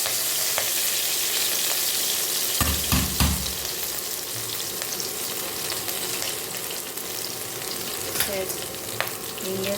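Cumin seeds fry in hot oil with a steady, dense sizzle and crackle that runs the whole time, plus a few louder pops and stirring knocks near the pan.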